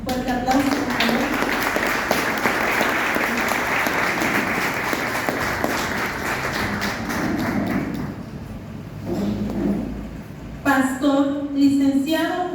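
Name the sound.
audience applauding at graduation ceremony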